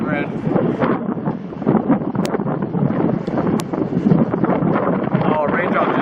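Strong wind from an October monsoon thunderstorm in Casa Grande, Arizona, buffets the microphone with a loud, constant roaring rush, and a muffled voice sits beneath it.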